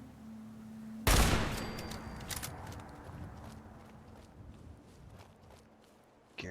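Automated turret gunfire in the video game Fallout 4 erupts suddenly as a loud, dense burst of rapid shots that rings out and fades into scattered echoing cracks and footsteps.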